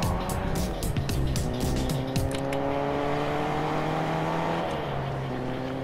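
A car drives in the Fortnite Chapter 2 video game, its engine droning steadily and loudly with rising and falling revs and a few sharp clicks early on.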